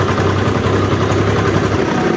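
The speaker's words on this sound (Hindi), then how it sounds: "ट्रैक्टर में पता नहीं क्या हुआ है, अजीब सी आवाज निकाल रहा है।" Tractor engine running with a strange noise, a loud, steady idling rumble with a low throbbing drone close by, continuous throughout.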